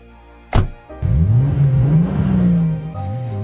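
An animated car drives off and accelerates, its engine rising and holding in a steady, close revving drone after a short sharp thump.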